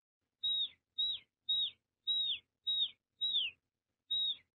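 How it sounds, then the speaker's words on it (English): Bluebirds in an animated children's story chirp in seven short, bright descending whistles, evenly spaced and clear against silence. "Humming blue birds fly in."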